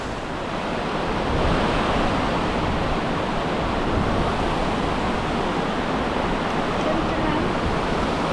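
A waterfall roars as a steady, dense wash of rushing water, loud and close with wind buffeting the microphone, unbroken for the whole stretch.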